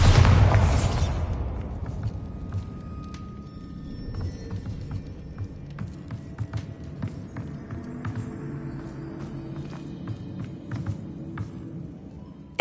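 Bombarda blasting spell in Hogwarts Legacy, a single loud explosive boom at the start that decays into rumbling debris and scattered small clatters fading over several seconds.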